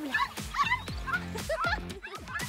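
Small dogs yip and bark in a quick, lively series of close, high-pitched calls with whimpering tones, playing in the yard of a dream house, with a voice faintly underneath.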